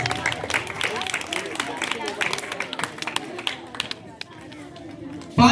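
An audience at a school debate competition applauds a student: dense, energetic clapping mixed with crowd chatter keeps going for several seconds, then thins out before a sudden loud thump at the end.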